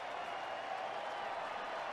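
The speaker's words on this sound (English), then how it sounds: "he gets a round of applause" Crowd at a baseball game gives a round of applause for an embarrassed ballboy, a steady, distant wash of clapping and murmuring from the stands, fairly faint and even throughout.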